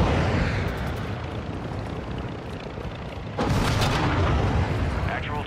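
A big explosion from an aircraft being destroyed in the video game DMZ Warzone, a loud rolling boom that swells and then stays heavy and sustained, with radio chatter over it.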